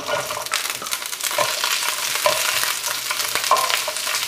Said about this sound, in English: You want to hear that sizzle when you put the vegetables in